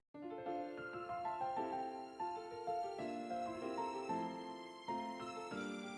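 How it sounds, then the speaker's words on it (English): A violin counter melody sings over a piano lead in an anime battle theme intro, the sustained bowed line and piano chords moving together in a steady, full, close instrumental passage with no voices. "to finish off the intro, I threw in this violin counter melody"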